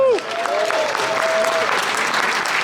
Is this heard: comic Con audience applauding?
yes